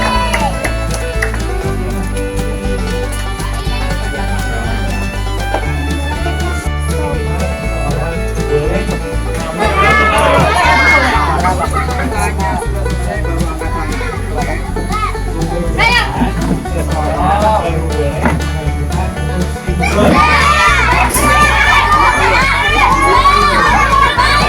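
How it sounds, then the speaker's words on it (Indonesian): A crowd of children at a junior drone-pilot event cheering, shouting and clapping for a girl named Cindy, loud and sustained with swells of excited shouting over a steady backing beat. "Tepuk tangan buat Cindy."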